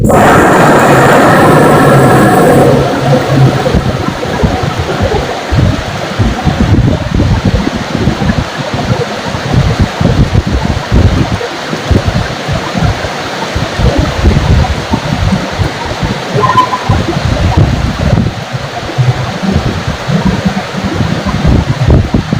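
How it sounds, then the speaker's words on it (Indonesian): Heavy rain pours down as a loud, dense, continuous roar of broadband noise. A brief stronger hiss is heard at the very start, and no speech is heard. "Hujannya gede banget."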